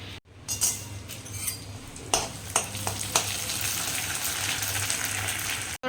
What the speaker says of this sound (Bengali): আমি একটু ব্যাট পাঁপড়গুলো ভাজবো তেল বসিয়ে দিয়েছি